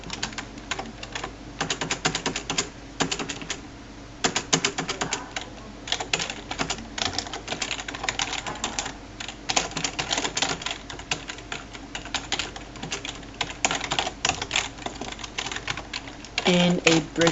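Rapid keyboard clatter from code being typed on a computer keyboard, with steady irregular keystrokes running throughout and a voice talking over much of it.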